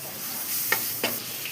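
Tomatoes added to a hot pan of spiced chickpea curry base give a soft, steady sizzle with a couple of quick stirring clicks, close and fairly quiet, with no talk.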